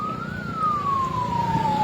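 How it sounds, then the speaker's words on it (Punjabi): An ambulance siren wails loud and close as a single sweeping tone that slowly drifts downward in pitch, over a low rumble of traffic, with no talking. "ਕੱਢ ਦਿੱਤੀ ਗਈ ਐਂਬੂਲੈਂਸ"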